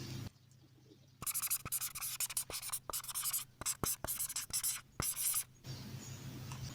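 A marker writes on a board during a math lesson, bursts of scratchy squeaking strokes broken by short pauses and sharp taps, close and clear over a low room hum.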